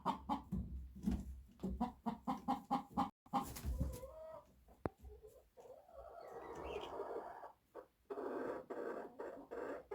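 Hens cluck steadily in a chicken coop, with rhythmic repeated calls near at hand that give way to a busier, overlapping squawking chorus.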